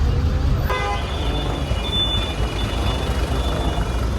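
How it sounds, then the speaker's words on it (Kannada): A vehicle horn toots briefly at the start amid heavy street traffic in Hubballi, followed by a continuous loud rumble of engines and road noise, with a faint higher tone sounding in the background. "ಬರೋಬ್ಬರಿ ಟ್ರಾಫಿಕ್ ಆಗ್ಬಿಟ್ಟೈತೆ ನೋಡ್ರಿಪ್ಪ ಇಲ್ಲಿ."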